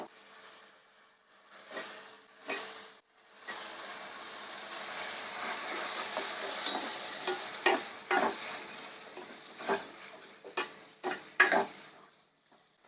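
Potatoes fry in a pan with softened onion and tomato, a moderate sizzle broken by repeated sharp scrapes and taps of a spatula stirring through the mix at irregular intervals.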